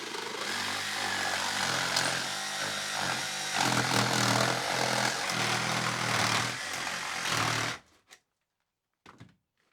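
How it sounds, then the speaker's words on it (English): A circular saw cuts through old boat sheathing between the beams. Its loud, close, buzzing whine holds for about eight seconds, then cuts off abruptly, leaving a couple of brief knocks in near silence. "trying first with a jigsaw, and then with a circular saw,"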